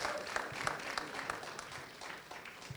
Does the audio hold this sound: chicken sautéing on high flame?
no